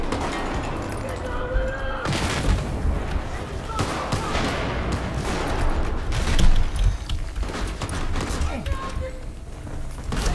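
In the video game Battlefield 4, a grenade explosion and repeated booms land amid dense gunfire and battle noise, loud and close, in a chaotic continuous mix.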